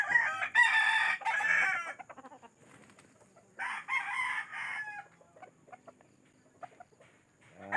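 Chickens cluck in bursts close by while a rooster crows loudly, with quieter clucks and scratches filling the pauses between calls.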